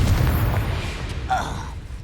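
The Confringo blasting spell detonates in the Hogwarts Legacy video game, a short booming explosion with a low thud and crackling burst, followed by a fainter second pop amid the game's ambient sound.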